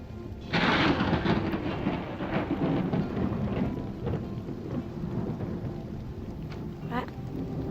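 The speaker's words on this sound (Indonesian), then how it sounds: "Hujannya masih deras banget." Heavy rain pours down steadily with a loud thunder crack near the start, its rumble fading into continuous dense rainfall on surfaces.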